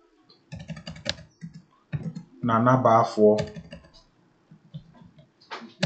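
Computer keyboard typing with an intermittent faulty response, heard as scattered clusters of clicks and taps between bursts of nearby talk and a loud voiced passage in the middle.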